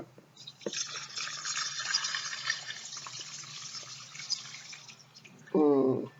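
Liquid is poured into a mixture for homemade hand sanitizer with aloe, a steady trickling pour running several seconds and ending in a short louder gurgle as the stream finishes.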